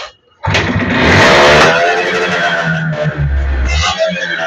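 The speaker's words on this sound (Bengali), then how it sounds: "এটা স্টার্ট দে হুন্ডা। একটা স্টার্ট দিয়ে দেখাই আপনাদেরকে সাউন্ড" A used Honda motorcycle engine cranks and fires up, then settles into a loud, close, rumbling idle with a brief rev.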